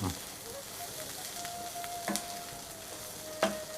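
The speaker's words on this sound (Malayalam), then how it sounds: "നല്ലോണം ഫ്രൈ ചെയ്തെടുക്കണം. ഒന്ന് കളർ മാറി റെഡിഷ് കളർ വരും." Dry prawns frying in a pan for pickle, a steady close sizzle with occasional spoon scrapes and sharp clicks against the pan.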